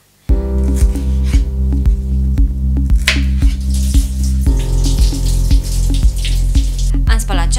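Tap water runs steadily over green onions being washed in a sink, a continuous splashing hiss heard under rhythmic background music for the whole stretch.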